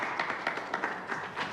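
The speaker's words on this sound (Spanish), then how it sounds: "un aplauso para ellos" A seminar audience applauding at a public forum on Mexico City's future, a steady patter of many hands clapping at moderate loudness with no voices.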